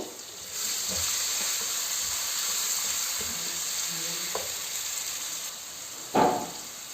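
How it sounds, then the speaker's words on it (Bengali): Onion and garlic frying in a pan for a fish dish, a steady close sizzle with occasional stirring clicks and a brief louder scrape near the end, no voices. "পেঁয়াজ রসুন ভাজা হয়ে গেছে"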